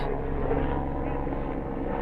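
A helicopter flies over a Delco League championship baseball game between Upper Darby and Wayne, its steady low engine and rotor drone filling the whole stretch without a break and with no talk over it.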